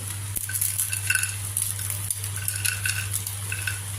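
Vadiyalu, crunchy sun-dried lentil fritters, are tipped into a pan of pumpkin curry and stirred, giving a few light clinks and scrapes of a spoon against the pan over a steady low hum, with no talking.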